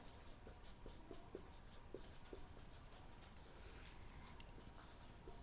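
Marker or chalk scratching across a board in short strokes and bursts, close and fairly quiet, with a faint hiss running underneath.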